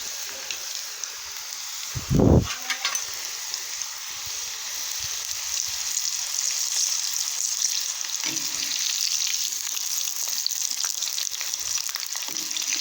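Cut pieces of leftover chapati frying in very hot oil, a steady close sizzle throughout with a louder burst of crackle as the pieces drop in early on, then continuous bubbling.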